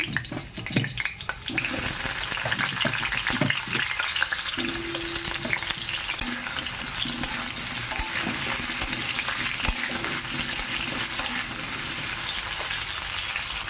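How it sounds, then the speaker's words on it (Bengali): Potato pieces drop into hot oil in a wok with a few clattering knocks, then fry with a loud, dense crackling sizzle that holds steady up close. "আলুগুলো প্রথমে আমি লাল লাল করে ভেজে নেব"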